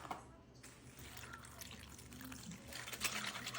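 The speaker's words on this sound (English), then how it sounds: "pour in some beef broth" Beef broth poured into a pot for cooking beef necks, a steady liquid splashing and trickling close by that runs continuously for a few seconds and swells slightly near the end.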